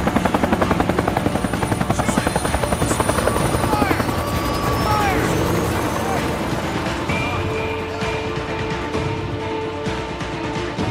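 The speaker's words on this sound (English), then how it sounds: "Chopper!" A helicopter's rotor thumps steadily close by, a loud continuous chopping drone, with voices and other game sounds layered over it, in the video game Days Gone.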